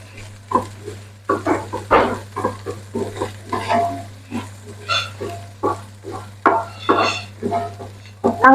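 Okra fry being stirred and tossed in an oiled pan, with repeated short scraping and clattering strokes over a faint sizzle, close and fairly loud, no talking.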